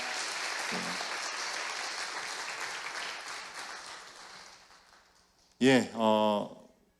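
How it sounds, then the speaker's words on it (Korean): A church congregation claps to welcome visiting guests during a Sunday service, a close, dense round of applause that slowly fades away, followed by someone speaking. "우리 박수로 환영하겠습니다."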